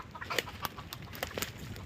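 A hen clucks in short, scattered bursts against a quiet, slightly noisy farmyard background.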